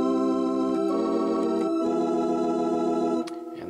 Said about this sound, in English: we get the tremolo effect.